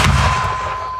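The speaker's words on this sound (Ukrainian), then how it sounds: "Постріл!" A single mortar round fires with a loud, close boom at the very start, then fades into a ringing, rumbling decay over about a second.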